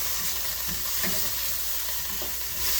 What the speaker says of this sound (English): Just a little saute on it. Meat is cooking up fast.